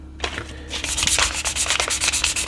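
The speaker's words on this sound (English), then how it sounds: "I'm going to sand a little bit more down." Close-up sandpaper rubbing on a model of the Enterprise in quick back-and-forth strokes, a dry rhythmic scratching that repeats steadily with no talking.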